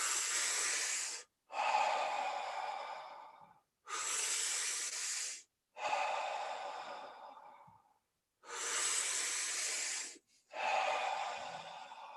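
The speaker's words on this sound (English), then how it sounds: "Inhale deeply, let go on the exhale." Deep, slow breathing during a breathwork session, three pairs of long airy breaths, each inhale and exhale separated by a short gap, close to the ear and alone.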